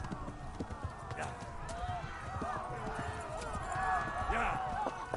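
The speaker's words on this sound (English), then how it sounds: "Run, you stupid horse." Horse hooves clip-clop at a galloping run in the video game Kingdom Come: Deliverance, steady and fairly close, heard beneath excited talking throughout.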